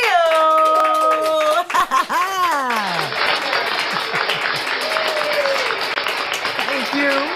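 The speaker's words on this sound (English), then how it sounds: "Please clap it up, make some love for Mary Achille." Studio audience applause on a morning talk show, a dense crowd of clapping that follows a short musical sting and continues steadily, with a voice briefly heard over it.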